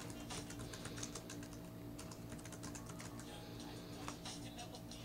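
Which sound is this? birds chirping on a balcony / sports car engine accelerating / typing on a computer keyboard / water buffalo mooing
typing on a computer keyboard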